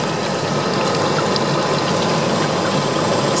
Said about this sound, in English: So we've got lots of water running down the windshield.